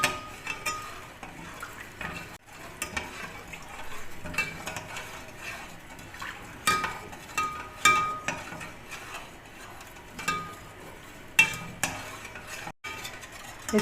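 Sugar being stirred into milk in a pot for a bread malai dessert, a spoon scraping and clinking against the metal with irregular taps and rattles, close and moderately loud, no talking.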